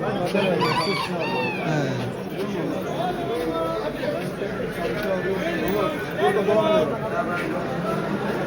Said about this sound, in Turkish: Şurada gördüğünüz gibi binlerce kuş var.